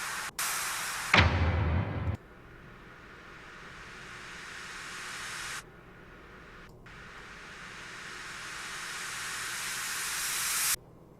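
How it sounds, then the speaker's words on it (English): White noise riser effects in dubstep production in FL Studio: bright hissing noise bursts, one swelling steadily louder over several seconds, with abrupt cuts between sections and no talking. "I always fill up space with white noise and risers and whatnot."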